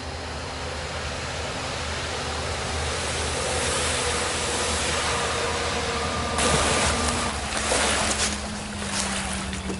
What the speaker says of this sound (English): Sounds like there's a boat coming right now.